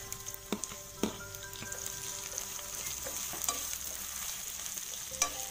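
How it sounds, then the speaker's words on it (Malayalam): Sliced onions hit hot oil already sizzling with dried chilli and curry leaves in a pan, a steady close sizzle broken by a few sharp clicks of stirring, with no voice. "നല്ല മണം വരുന്നതിലേക്ക് നമുക്ക് സവോള ഇട്ട് കൊടുക്കാം"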